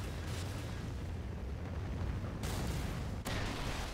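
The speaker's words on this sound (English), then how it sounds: "Friendly Trinity rocket inbound." A Trinity rocket strike in Call of Duty: Ghosts lands with a deep, rumbling blast that roars continuously, with sharper bursts cutting in near the end and no talk.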